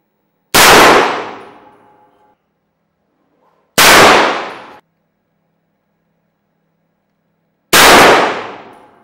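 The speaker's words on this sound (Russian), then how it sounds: "Это 50-килограммовый гонг, здоровенный, и мы его наклонили очень сильно." Three rounds from a 366 TKM rifle strike a heavy, steeply tilted 50 kg steel gong, each hit a loud, ringing metallic clang that decays over about a second, spaced a few seconds apart with silence between.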